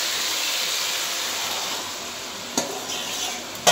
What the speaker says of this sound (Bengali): এবার আমি এর মধ্যে ম্যারিনেট করা মাংসটা দিয়ে দিচ্ছি